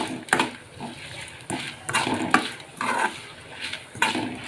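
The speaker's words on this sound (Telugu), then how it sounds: "మినపప్పు, జీలకర్ర, ధనియాలు, ఎండుమిరపకాయలు కూడా మాడకుండా వేపుకోవాలండి." Spoon scraping and clinking in a pan as urad dal, cumin, coriander seeds and dried chillies roast for gongura pickle, a steady rhythm of distinct stirring strokes about every half second, close and fairly quiet.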